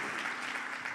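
A church congregation applauds, a dense, even wash of many hands clapping at moderate loudness for a brief moment, with no voices standing out.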